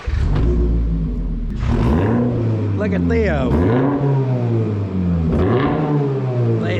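Subaru car engine fitted with weed eater exhaust revving in sharp rising and falling bursts, loud and close, with people talking over it.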